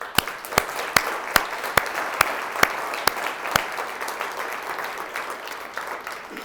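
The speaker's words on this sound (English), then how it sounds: "So please join me in a round of applause." A conference audience gives a round of applause, a dense patter of many hands with a few loud, sharp claps standing out near the front, steady for several seconds before thinning slightly.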